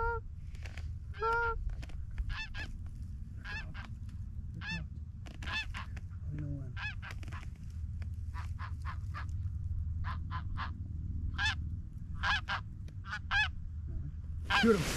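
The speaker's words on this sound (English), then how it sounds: "About 200 geese this morning coming off the pond over there." Flock of about 200 geese near a pond in Wisconsin, repeated honks and calls from many birds at a moderate distance, overlapping irregularly over a low steady background rumble.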